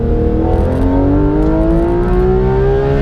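A first-generation Porsche GT3 RS engine revs hard from inside the car, a loud rising mechanical howl climbing steadily in pitch across the whole stretch, close and dominant.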